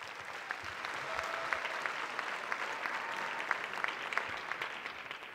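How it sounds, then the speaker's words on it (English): Audience at a winter memorial band concert gives a round of applause, a continuous, soft crowd of clapping heard from some distance, with scattered individual sharp claps poking through the steady patter. "Give them a round of applause."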